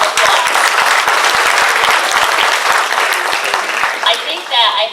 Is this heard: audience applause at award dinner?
yes